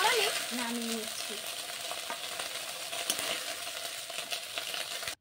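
Boiled drumstick (moringa) leaves with a little sugar are stirred in a pan, giving a steady, close-up sizzle with soft scraping throughout.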